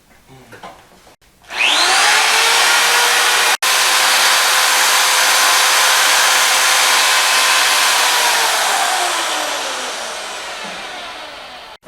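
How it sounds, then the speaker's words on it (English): An overheating electric drill whines loudly and continuously for about ten seconds after a short lead-in, its pitch dipping slightly as it labors, then easing off near the end, while pre-lubing a Chevrolet 305 TPI engine. "Overheating the drill."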